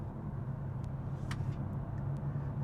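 A 2021 BMW 430i Coupe with a 4-cylinder turbo and 8-speed automatic takes a corner at about 45 mph, giving a steady, smooth low engine and road rumble heard from inside the cabin, with no talk.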